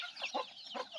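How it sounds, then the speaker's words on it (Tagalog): Flock of farmyard chickens clucking close by while pecking and scratching at sun-dried corn, soft overlapping clucks and short calls with no talk. "Ayan, pinutakti naman ng mga manok ko."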